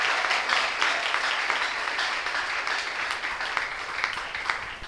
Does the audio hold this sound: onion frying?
no